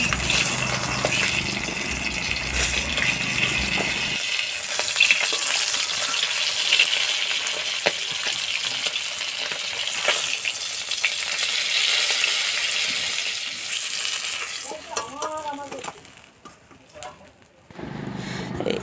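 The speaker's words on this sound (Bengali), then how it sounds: "ওই মাছের তেলে আমরা এখন বড়িটা ভেজে নিচ্ছি" Lentil dumplings (bori) fry in leftover fish oil, giving a steady broadband sizzle that runs for most of the stretch and thins near the end, with a voice briefly speaking over it.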